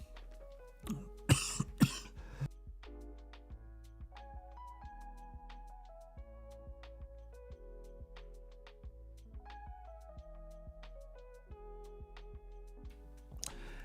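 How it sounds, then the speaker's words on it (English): A short burst of several coughs near the start, fairly close, over a quiet, sparse background of soft tones and ticks. "just had a coughing fit"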